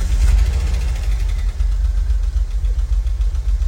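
A 1987 VW T3 Combi Carat van engine idles just after starting, a loud, steady low rumble heard up close with a slight rhythmic throb and nothing else over it.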